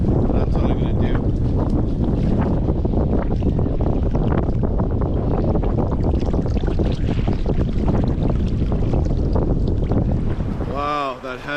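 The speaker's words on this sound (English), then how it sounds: "that headwind was brutal" A strong headwind buffets a canoe being paddled on the Peel River in the Yukon wilderness, a loud constant roaring rush of wind noise that swamps everything until it briefly eases at the very end.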